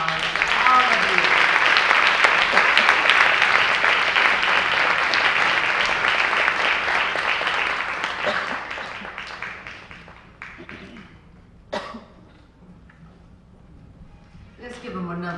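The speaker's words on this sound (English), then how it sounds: "I would like all the sisters behind the stage to come out and please give them a round of applause." Audience at a stage show claps loudly and continuously for sisters coming out on stage, the applause fading after about ten seconds into scattered claps, with voices heard briefly as it dies down.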